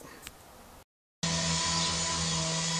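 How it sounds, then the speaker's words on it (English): After a quiet moment and a brief silence, a loud power saw cutting paving slabs nearby kicks in with a harsh, steady grinding whine that continues unbroken. "someone cutting paving slabs nearby"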